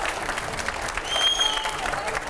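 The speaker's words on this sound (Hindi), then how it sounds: "स्वागत, जोरदार तालियां।" Loud, sustained applause welcomes a guest at a Hindi television news studio event, a thick, even roar of clapping with a voice talking over it.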